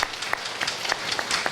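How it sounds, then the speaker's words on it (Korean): A church congregation at a Korean Sunday worship service claps to welcome visiting family members, a short burst of many hands applauding together in a roomy hall. "오늘 잠깐 방문하셨는데 우리 박수로 환영하겠습니다."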